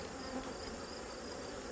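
Honeybees swarming around an open hive in fall, a dense continuous buzzing drone that stays even and close throughout, with no voices.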